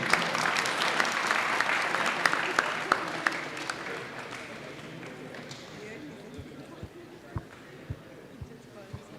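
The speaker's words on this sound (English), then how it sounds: "So huge round of applause for Sridhar sir." An audience at an IIT Madras alumni meetup gives steady applause that gradually thins, individual claps becoming sparse and distinct toward the end, with some murmuring voices.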